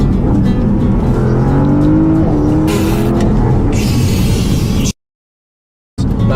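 A car surges forward hard in Sport Plus mode to overtake on a scenic road, its engine droning loudly with rising tonal bands, a whoosh near the middle, then a sudden cut to silence before it resumes.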